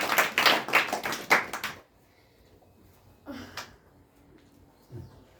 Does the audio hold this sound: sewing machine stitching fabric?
no